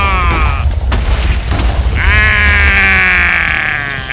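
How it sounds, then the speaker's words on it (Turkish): A house blowing up in the Minecraft video game: a loud, rumbling in-game explosion lasting several seconds with crackling debris, followed by a sustained bright tone near the end. "Olamaz! Evim patlıyor!"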